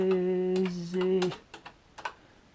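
A BBC Micro Model B sounds a steady held electronic tone that cuts off, followed by a few sharp, close keystrokes on its keyboard.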